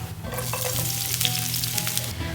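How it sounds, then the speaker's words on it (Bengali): Chopped onions fry in hot soybean oil for an oats khichdi, a dense, close crackling sizzle with a stir partway through, with no voices. "তেল গরম হয়ে গেছে এখন আমরা পেঁয়াজ কুচিগুলো ভেজে নিচ্ছি"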